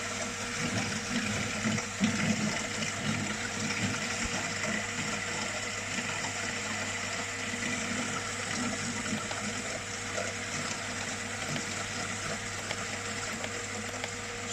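A heating system's pump runs with water circulating through 22mm pipes, a steady low hum and hiss of flowing water that stays faint and unchanging throughout.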